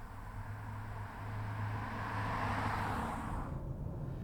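A 2020 Hyundai Sonata Hybrid sedan driving, heard from inside as a quiet, steady cabin hum with road noise that swells slightly and then eases, with no voices.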